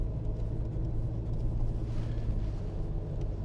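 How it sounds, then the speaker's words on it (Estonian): A Mercedes car on the road in winter, heard from inside as a continuous low engine and road rumble, steady and fairly loud, with no talking. "We are back on the roads with Mercedes."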